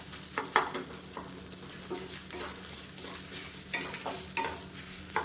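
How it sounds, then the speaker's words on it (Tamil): Grated coconut roasting and being stirred in a hot pan for tamarind kulambu, a steady soft sizzle with repeated scraping stirs, close and alone without talk. "மெஷரிங் கப்பில் ஒரு கால் கப் அளவுக்கு திருவண தேங்காய் சேர்த்துக்கலாம் இதையும் சேர்த்து நல்லா வறுத்துக்கலாம்"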